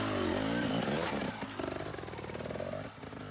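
Dirt bike engine revving hard as the bike climbs over a log on a trail, a loud continuous engine roar with pitch swells and a brief dip near the end.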